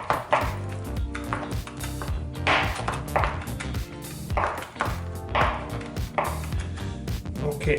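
Rapid, steady knife chops on a cutting board as garlic is finely minced, a close, crisp rhythmic tapping with brief pauses between runs of strokes.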